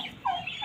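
A short turkey gobble, a quick warbling burst heard up close.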